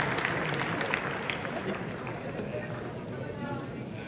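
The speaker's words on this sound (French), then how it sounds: "on peut applaudir très fort" Applause from the audience at a Grand Cru horse auction sale just after a lot is knocked down, a steady wash of clapping throughout.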